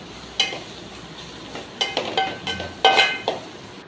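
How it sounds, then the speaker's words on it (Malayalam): Vegetable masala powder roasts in a pan while a spoon stirs it, giving soft scraping strokes and a low sizzle, with a few brighter clinks of utensil on metal clustered toward the end. "എല്ലാം കൂടി ഒന്ന് മിക്സ് ചെയ്ത് പൊടിയൊക്കെ മൂത്ത് വരുന്നത് വരെ ഒന്ന് ഇളക്കി കൊടുത്തു."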